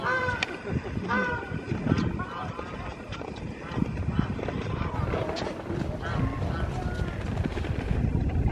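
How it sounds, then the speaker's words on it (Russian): Geese honk repeatedly at a distance on a lake amid a busy mix of duck, pigeon and other bird calls, with people talking over the noise. "Там гуси орут."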